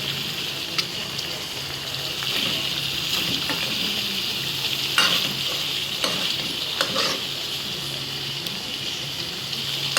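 Chicken curry gravy sizzles steadily in a pan while a spoon scrapes and stirs through it at intervals, close and continuous, with no talk.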